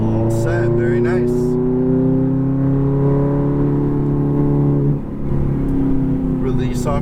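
Ferrari F430 engine pulling hard on a racetrack, its close, loud tone climbing steadily under acceleration, dipping briefly as the throttle eases, then building again.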